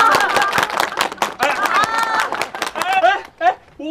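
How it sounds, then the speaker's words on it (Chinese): Clapping greets two heroes at a family gathering. The applause is mixed with lively voices and chatter, so speech runs over the whole burst. "我们给大英雄鼓掌。"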